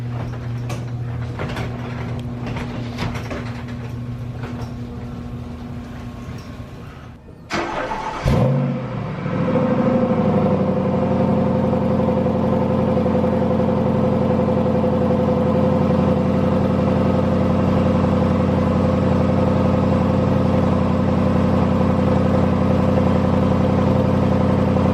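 A 2011 Jaguar XK 5.0 naturally aspirated V8 is started with a starter whir and a loud catch, then flares up and settles into a steady, deep idle that runs on for many seconds.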